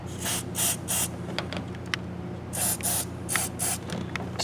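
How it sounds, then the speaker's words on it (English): Aerosol lubricant sprayed onto the door hinge pins of a 1998 Chevy GMT-400 truck, heard as a series of short, close hissing bursts in two clusters with brief pauses between them. "work it back and forth while you're spraying it"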